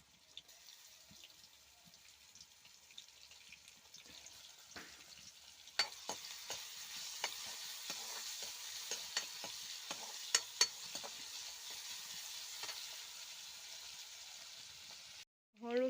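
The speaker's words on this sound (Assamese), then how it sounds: "নহৰুখিনি অলপ ৰঙাকৈ ভাজি" Garlic paste frying in hot oil for an Assamese snakehead fish curry with taro and tomato, a quiet sizzle that grows louder midway with sporadic stirring clicks, close and without talk.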